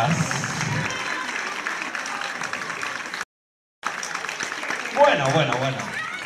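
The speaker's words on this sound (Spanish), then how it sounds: "Un aplauso para las pandereteiras." Applause for tambourine players at a Christmas gala fills the hall as a steady wash of clapping, briefly cut off by a gap of silence, then resuming with voices and crowd noise mixed in.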